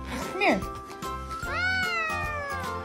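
A cat meows in a home kitchen, with one sharp, rising cry followed by a longer, drawn-out tonal meow close to the listener, over steady background noise and a person talking nearby.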